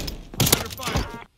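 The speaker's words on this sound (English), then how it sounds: "Jesus, this shotgun!" Loud, close shotgun blasts from a .410 Ironhide in the Call of Duty Warzone video game, two heavy booming shots fired close together, then a rumbling tail that cuts off abruptly.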